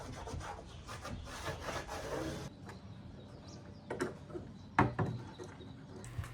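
Quiet, uneven scraping and rubbing on the wooden edges of a roughly 100-year-old antique desk, with soft strokes in the first half, then sparse knocks and handling noises.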